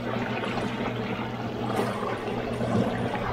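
Small boat pushed along by a 12V trolling motor run on a 24V battery: a steady, close rushing of water and hull wash with a low motor hum underneath, continuous and fairly loud, no speech.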